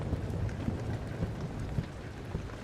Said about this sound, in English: the thunder itself is very creepy, of course